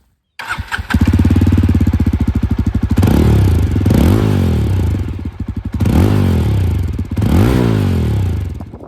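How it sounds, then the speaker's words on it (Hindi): A Java 42 2.1 motorcycle starts up close by, and its exhaust barks through several loud, rising throttle blips that drop back to a lumpy idle between revs. "अभी हम एग्जॉस्ट नोट सुनते हैं।"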